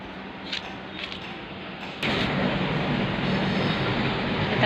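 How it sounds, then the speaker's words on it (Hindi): A train passes nearby, a steady rumbling roar that jumps abruptly louder about halfway through and then holds, with a few faint clinks early on. "देखो ट्रेन जो ट्रेन रो आवाज केनता आछे"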